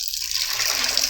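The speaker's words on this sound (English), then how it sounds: "once you get them out of the vinegar water, then you dump the vinegar water out." Vinegar water poured out of a cooking pot into a sink, a steady gushing splash of liquid that lasts about a second, close and fairly loud with nobody talking.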